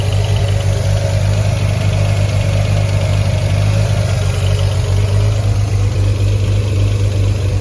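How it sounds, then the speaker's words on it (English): A 1972 Triumph TR6 roadster engine with SU carburettors idles steadily close by at the rear, a deep even rumble with a throaty twin-pipe exhaust burble that holds constant without revving. "We can get a listen to the twin pipes back here singing their song."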